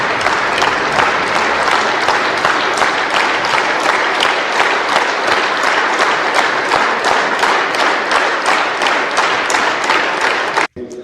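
A large standing audience in a parliamentary hall applauds in loud, rhythmic unison, steady synchronized claps repeating for over ten seconds before an abrupt cut.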